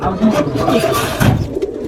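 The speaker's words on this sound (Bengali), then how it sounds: "খুবই সুন্দর কবুতর" Teddy pigeons coo close by in soft, throaty, repeated phrases, with faint background rustling.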